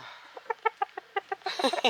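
Roosters clucking close by, a quick series of short rhythmic clucks that build into a louder, busier burst of calls.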